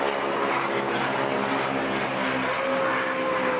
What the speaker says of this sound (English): They got some planes flying overhead.